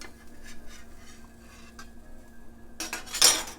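Swordfish being lifted off a hot cast iron pan onto a sheet pan, a brief metallic scrape and clink at the end after a quiet stretch of faint kitchen hum.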